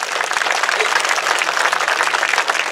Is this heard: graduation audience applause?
yes